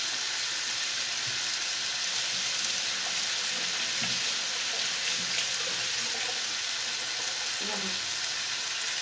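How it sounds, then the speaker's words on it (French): Hands washed under a running kitchen tap while a Spanish-style paella cooks, a steady broadband rush of water with faint splashes and clatter, no talk over it. "Je vais me laver les mains."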